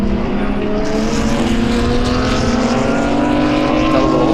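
GT race cars, a Lamborghini among them, roar past at BalatonPark circuit, loud and close, engine notes rising steadily through a continuous drone without pause.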